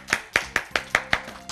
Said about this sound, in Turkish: Kocaman bir alkış alalım mı?